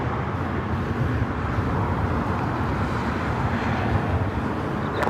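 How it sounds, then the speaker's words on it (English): A United Airlines Boeing 787-9 Dreamliner landing at LAX, a steady broadband jet engine roar that stays at a constant level for several seconds, moderately loud, with no talking. "787-9 Dreamliner."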